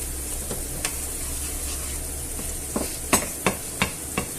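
Paprika being stirred into food frying in a pan for a tuna and tomato penne sauce: a steady sizzle with spoon scrapes and taps against the pan, several sharp clicks bunching toward the end.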